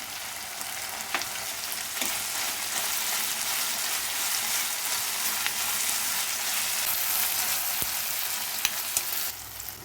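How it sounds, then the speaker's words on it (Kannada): Tomato and capsicum frying in a pan for bisi bele bath, a dense continuous hiss of sizzling oil with occasional faint pops and ticks, close and steady throughout, no speech. "ಫ್ರೈ ಮಾಡೋಣ. ಟೊಮೆಟೊ ಹಾಕೊಳ್ತಾ ಇದ್ದೀನಿ. ಕ್ಯಾಪ್ಸಿಕಮ್ ಹಾಕೊಳ್ತಾ ಇದ್ದೀನಿ."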